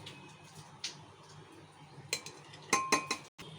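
Rice and lentils tipped into a pressure cooker for khichuri, a few sharp clinks and rattling pours of grains against the metal pot, close and fairly quiet, clustered near the end.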